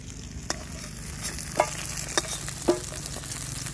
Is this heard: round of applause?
no